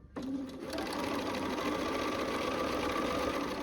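A sewing machine stitches pieced quilt fabric under the presser foot, running loud and steady with an even mechanical hum and needle patter from just after the start to the end.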